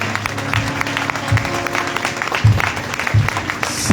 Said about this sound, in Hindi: आइए जितने लोग विश्वास करते हैं प्रभु की हुजूरी के लिए ताली बजाएंगे।